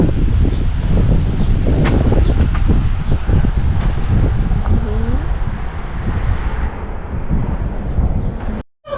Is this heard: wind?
yes